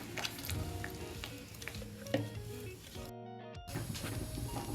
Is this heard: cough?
no